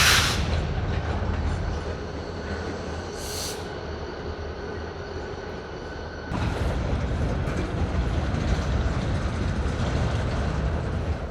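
Freight train rail cars roll past in North Portland near the Smith and Bybee Wetlands, a loud continuous rumble and clatter with a brief high squeal of wheels early on, the noise rising sharply partway through as heavier cars pass close.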